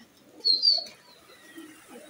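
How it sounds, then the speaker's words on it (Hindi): Domestic pigeons from a flock of about three hundred give a short soft coo and a few faint calls, close and quiet with no talking. "ये 300 कबूतर है जी माशाल्लाह से"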